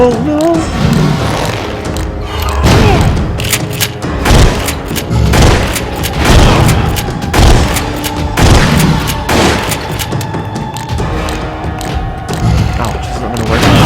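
Heavy gunfire in Resident Evil: The Darkside Chronicles, with a dense run of repeated booming shots and thuds over loud, busy game sound.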